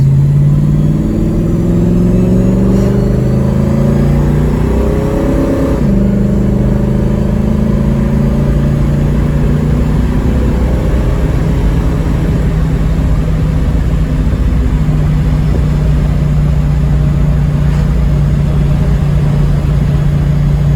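A fully restored 1966 Shelby GT-350H Mustang drives along with a steady, loud engine drone that climbs through a gear change early on, then holds an even cruising hum, with no voices heard.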